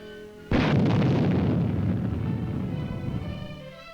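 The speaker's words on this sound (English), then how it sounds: "Little John all-weather rocket." A Little John all-weather Army rocket launches with a sudden loud blast, followed by a long, roaring rush that fades slowly over several seconds, heard alone without any voices.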